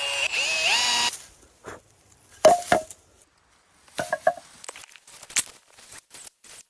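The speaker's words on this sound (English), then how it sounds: "we need to pre-drill the holes so the screws fully get in" A power drill pre-drilling holes in wood for treehouse steps, heard as short whirring bursts separated by pauses, with knocks and handling noises in between, close by.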